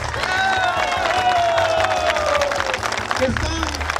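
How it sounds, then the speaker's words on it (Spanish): Applause from an audience at a televised community event honoring construction workers, a dense, steady wash of clapping that holds for the whole stretch, with music and a voice faintly underneath. "queremos un fuerte aplauso a todas las mujeres y hombres"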